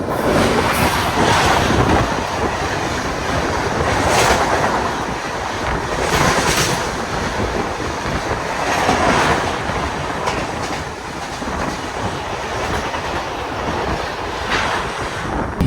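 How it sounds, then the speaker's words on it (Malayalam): The Punjab Mail express, running from Ferozepur to Mumbai, rushes past close by with a loud, steady roar of rolling wheels and rhythmic clickety-clack joints, plus faint wheel squeal, filling the whole stretch without any voices. "ഫിറോസ്പൂരിൽ നിന്ന് മുംബൈക്ക് വന്ന പഞ്ചാബ് മെയിലാണ് ഇപ്പോൾ പോയത്"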